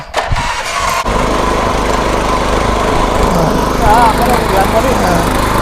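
Small diesel self-start power weeder engine running close and loud, a steady rough drone after a brief start-up clatter, with no talk over it.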